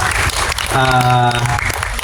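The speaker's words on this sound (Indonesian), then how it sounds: "Tepuk tangan dong buat Pak Dwi dan Bu Yuni Priscilla" Audience applause for Pak Dwi and Bu Yuni Priscilla at a celebration event, clapping under a loud voice and a sustained tonal sound.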